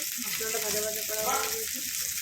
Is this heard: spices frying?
yes